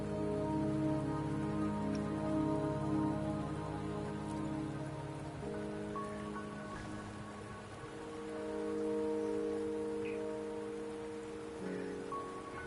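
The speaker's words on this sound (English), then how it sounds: "Don't worry, the rain won't last much longer." Steady rainfall in the video game Wuthering Waves, a soft, even patter under sustained tonal music with faint scattered drips throughout.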